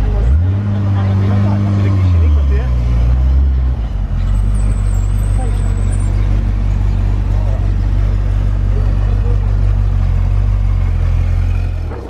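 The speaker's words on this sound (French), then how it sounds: "Ferrari F40 qui arrive au casino." Ferrari F40 arriving at the casino in Monaco, its loud engine rumbling up close, with a revving burst near the start before settling into a steady, heavy idle, under street noise and voices.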